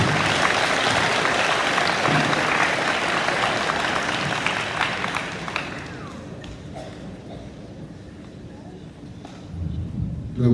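Audience applause fills a school awards day ceremony for grade 9 to 11 students, loud and sustained for about six seconds before fading into quieter room noise with a few scattered claps.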